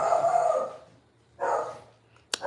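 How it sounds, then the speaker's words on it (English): A dog barks at home during an evening garden tour, two rough bursts of barking about a second apart at moderate distance, followed by a sharp knock. "let me go check and see what my dog is barking at here"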